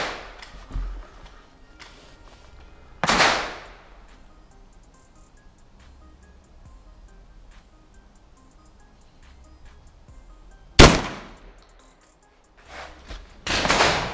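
Ata Arms Neo 12 shotgun firing Karat 12/70 slugs outdoors, a few sharp, loud blasts spaced seconds apart with quiet gaps between them, each ending in a short decaying report.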